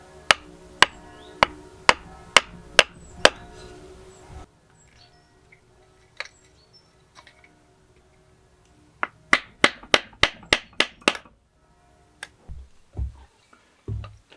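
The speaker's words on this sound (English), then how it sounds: "with a hammer and chisel you can break out little bits and bobs" Sharp hammer strikes on a chisel chipping deadwood on an olive bonsai, in quick bursts of about six blows, pauses with faint scraping, then another rapid series and a few duller knocks.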